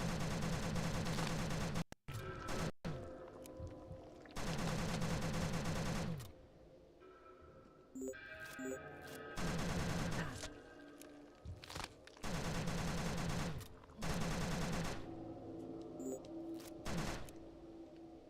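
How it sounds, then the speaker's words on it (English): Pump-action 12-gauge shotgun fire in the horror game Chasmal, loud dense bursts of blasts separated by short gaps, with a couple of sharp isolated cracks near the start. "Pump action shotgun fires 12 gauge shotgun shells"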